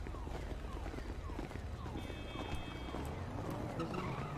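Car engine in GTA V roleplay driving along a city street, a steady loud drone with tire noise and faint skids, under talk from people nearby.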